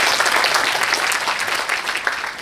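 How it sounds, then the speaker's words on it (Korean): An audience at a book launch event for a provincial governor breaks into steady applause, dense clapping from many hands filling the room evenly, close and loud, with no voices over it. "공감하시면 박수 좀 부탁드립니다."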